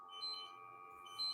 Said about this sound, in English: So I don't know where the beep is coming from.